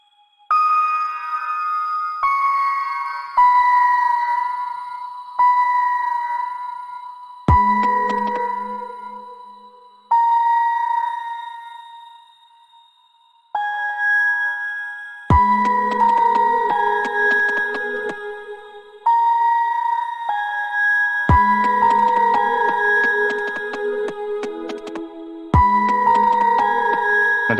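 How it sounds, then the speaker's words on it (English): An otherworldly toy piano synth patch plays a repeating pattern of bright chiming notes with ringing tails, joined later by a low thudding beat, loud and alone without talk. "Otherworldly toy piano."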